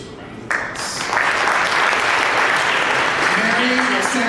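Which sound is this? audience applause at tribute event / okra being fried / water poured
audience applause at tribute event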